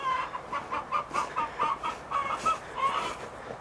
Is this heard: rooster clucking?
yes